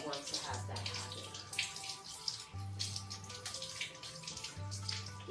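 Water from a tap rinses dirty yams before peeling, a close splashing stream with intermittent handling sounds and a low hum pulsing underneath.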